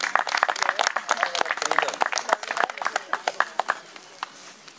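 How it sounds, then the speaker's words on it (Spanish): An audience at a poetry gathering claps to welcome poet José Luis Colombini, brisk close-up clapping with a few sharp individual claps that thins out and fades over several seconds. "José Luis Colombini, lo recibimos con un aplauso."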